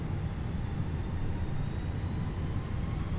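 Fenix A320 jet engines spool up to takeoff power on the runway at Salt Lake City in Microsoft Flight Simulator, a steady, loud, broadband roar with a low rumble that holds even throughout.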